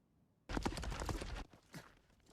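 A quick burst of horse hooves pounding at a gallop in an anime battle scene, loud for about a second, then trailing off into a few fainter, scattered thuds.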